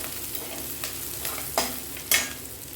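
Onions with green and dried red chillies frying in a pan for wheat rava upma: a steady soft sizzle with a few sharper scraping clicks from stirring near the end, fairly quiet and with no talk.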